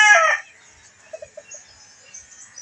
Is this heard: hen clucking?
yes